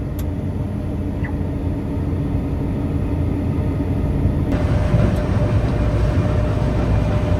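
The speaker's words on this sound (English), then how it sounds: "That's the tank nearly empty into the trailer." A combine harvester empties its grain tank into a trailer during a 2023 harvest, a steady low mechanical rumble and drone of the machinery heard continuously and fairly loud, with no voices.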